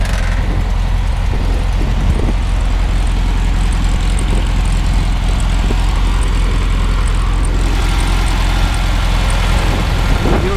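A 1967 Volkswagen Karmann Ghia with its original, rebuilt 1500 cc engine runs steadily, a loud continuous low drone with an airy hiss, close by and unbroken for the whole stretch, with no talk over it.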